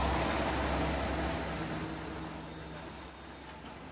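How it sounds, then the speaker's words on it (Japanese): The Ibusuki no Tamatebako train pulling into Nishi-Oyama station, a close, heavy low rumble of wheels and engine that gradually fades as it slows, with no voices. "列車が到着し、ドアが開くと同時になんとミストが出てきます"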